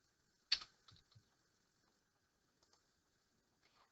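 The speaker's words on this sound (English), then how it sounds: "go onto Google and type in Kid Thesaurus" A few sparse, faint clicks of typing on a computer keyboard, with one sharper keystroke near the start and scattered light taps after it in an otherwise quiet room.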